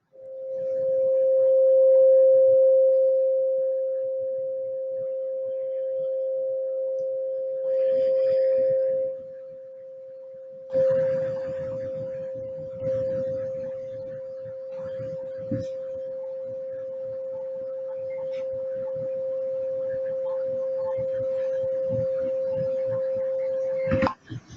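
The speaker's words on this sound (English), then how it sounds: "This sound is the basics of all the meditations, healing tones that are used elsewhere in the world." A steady pure sine tone at 528 Hz used for meditation and healing, sounding clearly and continuously for the whole stretch with a slight beating at the start, while faint murmurs and small room noises drift beneath it.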